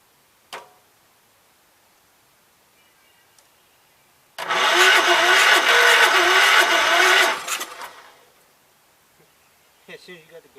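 A 1984 Gravely 5665 tractor engine cranks and briefly catches, giving about three seconds of loud, rough running before dying away, with faint clicks and quiet spells on either side.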